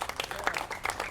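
A church congregation claps briefly and unevenly at a worship service, the applause quick and fairly faint.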